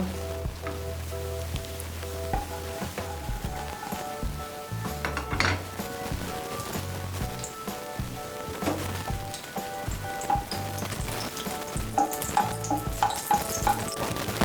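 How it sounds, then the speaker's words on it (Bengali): Dried red chillies fry in hot oil in a wok, giving a steady close sizzle with occasional metal clinks and stirring scrapes throughout. "তেলটা গরম হলে প্রথমে এর মধ্যে আমি 2টো শুকনো লঙ্কা ভেজে নেব"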